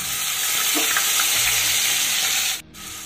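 Green chillies fry in hot oil with a dense, steady sizzle that fills the clip, with a few faint stirring scrapes, before the hiss briefly drops away near the end.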